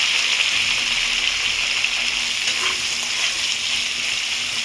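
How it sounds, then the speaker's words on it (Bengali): Sliced beans, carrots and long ginger strips fry in hot oil in a pan for fried rice, producing a dense, even, close sizzle with faint stirring throughout. "বিনস, গাজর আর এরকম লম্বা লম্বা করে রাখা আদা। তো এটা এবার এর মধ্যে দিয়ে দেবো, ভাজবো"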